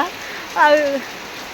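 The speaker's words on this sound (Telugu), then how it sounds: "కరెక్ట్గా పాలు తీసే టయానికి వర్షం పడుతుంది చూసారా ఫుల్ వర్షం అనమాట" Heavy rain pours down in an even, loud hiss throughout, with a short voice-like sound rising briefly over it midway.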